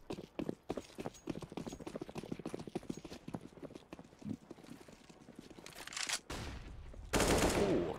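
Counter-Strike rifle fire during an ESL Premiership match, heard as a fast, rhythmic rattle of shots throughout, ending in louder close bursts, with no voice over it.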